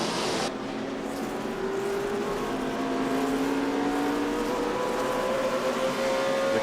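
A NASCAR Sprint Cup race car engine roars continuously from inside Dale Earnhardt Jr.'s car at the 2008 Sylvania 300, its loud drone climbing steadily in pitch as it accelerates.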